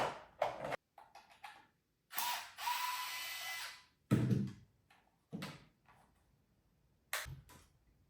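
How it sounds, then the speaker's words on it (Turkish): Cordless screwdriver opening a cheap product shipped from China, several short motor whirrs and ratcheting bursts with pauses between, close and clear, no talking. "zaten şarjlı bir tornavida var"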